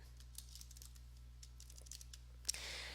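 Light typing on a computer keyboard, scattered soft key clicks over a steady low hum, quiet and close, ending in a sharper click and a burst of hiss.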